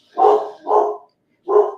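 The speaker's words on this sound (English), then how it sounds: "My dog is upset." A dog indoors gives three loud, close barks, two in quick succession and then one more after a short pause.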